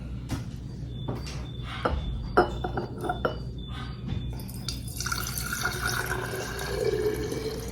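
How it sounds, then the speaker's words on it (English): Liquid fabric softener trickles and drips into a glass jar, with small clinks and a steadier pouring rush toward the end. "Pour it in the jar."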